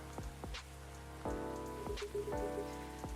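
Rain falling in the video game Coffee Talk 2, a soft, steady patter punctuated by occasional muted thumps, quiet and without speech.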